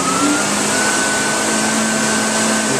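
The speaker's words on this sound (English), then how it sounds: "We run it at full throttle." Loud, steady roar of a Husqvarna leaf blower held at full throttle while powering a rotary drywasher, a constant high-speed whine with no pauses.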